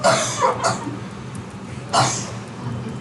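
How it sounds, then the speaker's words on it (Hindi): Two bursts of coughing, one short pair early and another harsher cough a moment later, close and fairly loud with no talking. "समझ नहीं आ रहा किसकी वजह से किसको खांसी हो रही है?"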